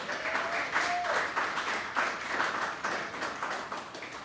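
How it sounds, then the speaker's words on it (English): An audience at a hip-hop summit panel in Chattanooga claps in a lively burst of applause, rising and falling in waves, with a few voices mixed in underneath. "clap it up for that, clap it up for that"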